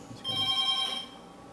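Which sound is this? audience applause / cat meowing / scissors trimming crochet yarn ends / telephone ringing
telephone ringing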